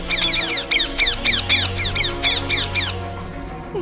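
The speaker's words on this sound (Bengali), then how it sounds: "আশপাশ দিয়ে এক ঝাঁক টিয়া পাখিও ভয়ে উড়ে যায়" A flock of parrots squawks in fast repeated harsh calls, about a dozen loud sharp cries in quick succession close by, fading out as the birds fly off.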